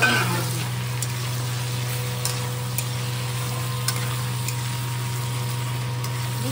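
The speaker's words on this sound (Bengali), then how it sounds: "এই পটলগুলো দিয়ে এখন ভাজবো" Pointed gourd (potol) frying in hot oil, a steady close sizzle with a constant low hum underneath and a few faint clicks of stirring.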